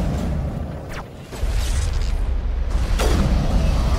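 Gunfire and explosions in the Mass Effect video game, with a couple of sharp cracks and heavy booming impacts over a low rumbling background, fairly close.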